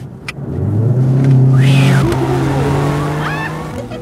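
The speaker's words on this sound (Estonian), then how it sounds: "kakssada kaheksakümmend hobujõudu, viis koma neli sekundit nullist sajani. Launch control ja kuula seda." A 280-horsepower car launching hard with launch control in sport mode, its engine roaring loudly and steadily climbing in pitch, with a brief gear-change dip before pulling on, close and dominant.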